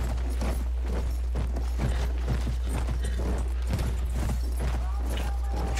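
Horse hooves clip-clopping in a quick, steady rhythm while riding in the video game Battlefield 1, heard under a constant low engine-like drone and scattered distant game effects.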